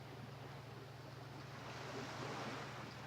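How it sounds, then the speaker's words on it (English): Ocean waves from the GameCube game Super Mario Sunshine wash steadily as a faint, continuous surf hiss with a low hum underneath, and no voices. "It's just the sound of the waves."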